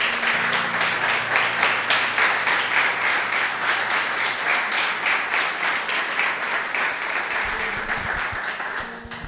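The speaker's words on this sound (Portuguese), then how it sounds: "Você pode aplaudir Jesus?" Sustained applause from a church congregation during a worship service, dense steady clapping that carries on for about nine seconds before easing off at the end.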